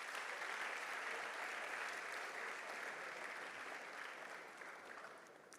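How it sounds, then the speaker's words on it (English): An audience claps steadily at a school graduation ceremony and prize-giving day at SOS Hermann Gmeiner International College, a dense, even wash of applause that fades slightly toward the end, heard from a distance. "Can we give a round of applause,"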